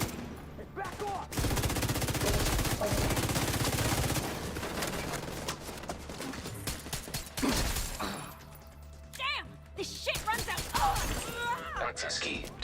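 Gunfire from a PVE video game, dense rapid bursts of shots and impacts running almost continuously and loud, with in-game voices and effects breaking in near the end.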